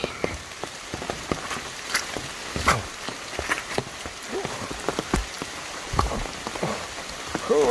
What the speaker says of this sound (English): sometimes there's rain.